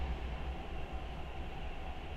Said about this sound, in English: there's already a train coming